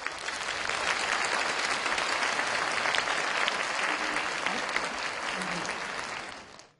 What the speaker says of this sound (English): Please welcome him with your warmest applause